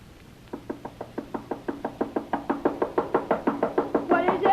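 Knuckles rap on a door in a steady run of about twenty firm knocks that grow slightly louder and quicken near the end, staged as a radio drama sound effect.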